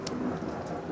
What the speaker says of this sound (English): that's an unusual sound for Colorado. Thunder, lightning, and rain.